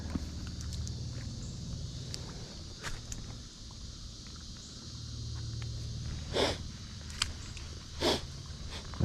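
Footsteps slog through a shallow creek at an old dump site in DeLand, Florida, on a bottle hunt. Watery sloshes come in a few louder bursts over steady faint outdoor background, with no talking.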